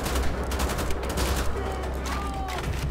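Assault rifle fire in the video game Wolfenstein: The Old Blood, a dense run of shots over rumbling game noise, loud and steady for a few seconds.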